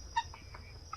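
A few soft clucks from chickens, one brief louder cluck standing out over faint steady background hum.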